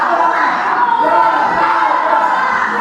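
Boxing crowd noise from a packed arena during a title fight, a dense, steady roar of cheering and shouting voices that holds loud and unbroken throughout.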